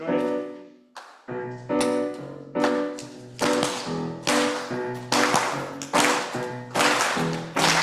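Congregation at a church worship service clapping along with choir music, the claps landing in a steady rhythmic beat layered over organ or keyboard chords and voices, loud and full throughout.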